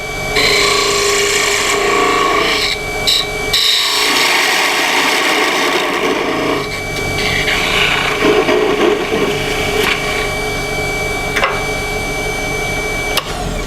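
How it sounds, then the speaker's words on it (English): A maple and walnut piece is parted off on a wood lathe, a loud continuous whirring scrape of the tool cutting into spinning wood, close and sustained with brief shifts in pressure. "I'm just going to go ahead and part it off and leave a little tenon on it."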